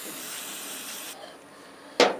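Cleaner sprays onto the brakes of a Suzuki GSX-R 600 motorcycle in a soft, close hiss lasting about a second, followed by a short quiet pause and a sharper burst of spray at the end.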